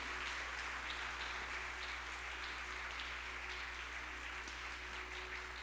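A church congregation applauding during an evening communion service, a dense, continuous wash of clapping from many hands, fairly distant and even throughout, with no speech over it.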